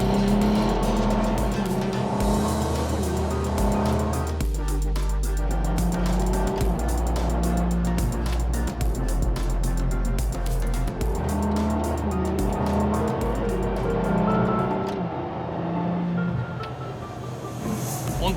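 A LaFerrari hybrid supercar engine roars and climbs through gears at Motor Park Adâncata, with shifts, tire noise and a high whine near the end; loud and continuous.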